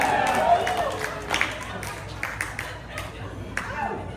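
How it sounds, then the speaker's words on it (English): A few scattered audience claps ring out after a stand-up comedy joke at a live show in Kits, light and sparse over the murmur of a small crowd. "10 people clapped for that joke."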